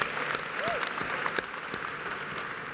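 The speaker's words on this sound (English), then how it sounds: "Let's have another round of applause for all our wonderful record breakers." An awards-ceremony audience claps for record breakers, a dense, sustained round of applause with a few sharper individual claps standing out and faint voices underneath.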